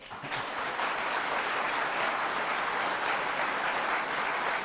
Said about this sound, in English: Can we have a louder applause?